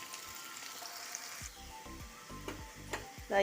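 Bitter gourd pieces fry in oil for a pickle with a faint, steady sizzle. Brief clinks and scrapes from stirring grow more frequent near the end.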